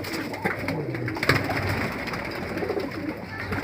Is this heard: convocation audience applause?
no